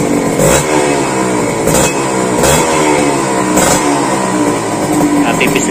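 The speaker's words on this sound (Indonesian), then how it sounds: "ini kondisi asap dan suara mesin Kawasaki Ninja RR" A Kawasaki Ninja RR two-stroke motorcycle idles and revs, running on Motul 510 2T oil mixed with ester additive, its engine giving a loud, buzzy, rattling drone with a few sharp throttle blips, close by.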